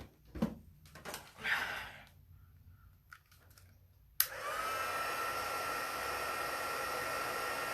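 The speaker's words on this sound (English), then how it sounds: "Let me grab my heat tool." Craft heat tool switched on to melt embossing powder, a sudden steady blowing hiss that starts midway after some quiet handling noises and continues to the end.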